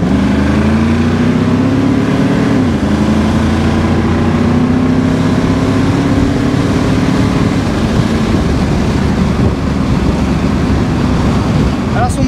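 Loud, steady engine of a 1969 Ford Mustang GT while driving, a deep rumble with pitch shifts as it changes speed, continuous throughout with faint talk from the car's occupants.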